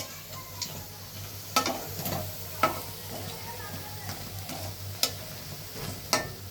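Cauliflower kebabs fry slowly in oil with a soft, fairly quiet sizzle over a low steady hum, broken by a few sharp utensil clicks.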